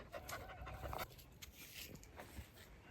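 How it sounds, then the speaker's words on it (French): Dogs panting and whimpering faintly at a distance over soft outdoor background noise on a hiking trail at Piton de Mont-Vert, Réunion. "Tu entends les chiens?"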